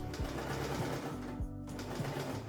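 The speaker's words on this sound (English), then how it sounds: "You just keep adding pieces, sewing them together to form strips." A sewing machine stitches fabric pieces together into strips with a quarter-inch seam, giving a close, rapid, steady whirring that pauses briefly midway and then carries on.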